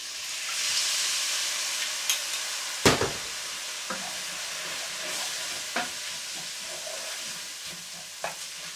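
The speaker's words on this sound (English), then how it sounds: "So to stop the cooking, just add the brandy" Frying onions for French onion soup sizzle in a pan as brandy is added, a hissing fry swelling briefly with a sharp clack of a utensil against the pan, then a steady sizzle with occasional light knocks.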